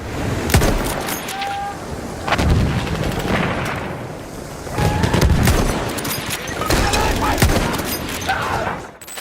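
Heavy gunfire and booming artillery blasts in a video game, in bursts, loud and close, with rolling echoes and scattered rapid shots between the explosions.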